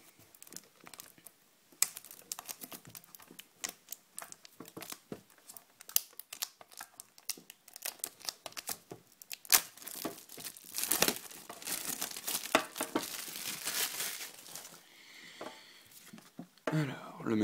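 Close crinkling and tearing of paper packaging as a Suicune Pokémon card box is opened, irregular rustles building to louder crumpling bursts, with quiet speech at moments.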